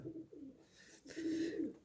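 Pigeons coo close by in a breeding loft with chicks and eggs, giving a couple of low, throaty rolling coos with a short pause between them.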